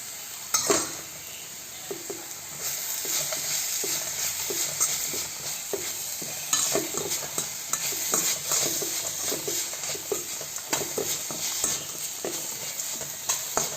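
A spoon stirs amla pulihora mixture as it fries in a pan, with repeated scraping strokes and soft metallic clinks over a constant sizzling hiss, close and steady.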